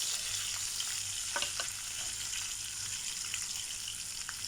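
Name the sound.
sautéing garlic and onion in a pan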